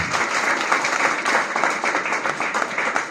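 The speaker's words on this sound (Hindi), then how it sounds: "उनके लिए भी जोरदार ताली।" Strong applause for the company founder at a DXN gathering, a continuous wash of many hands clapping, loud and even for a few seconds.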